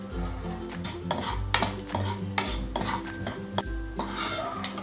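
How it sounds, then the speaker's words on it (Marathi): Charoli nuts roasting in ghee in a metal pan, repeated spoon scrapes and clinks against the pan in an irregular stirring rhythm over a faint sizzle, close up. "त्याच तुपात आता मी ही चारोळी थोडीशी परतून घेते।"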